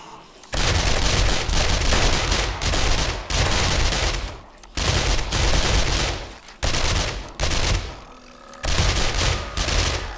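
Bursts of automatic gunfire in the zombie survival game 7 Days to Die, several loud sustained volleys separated by short pauses, with no talk over them.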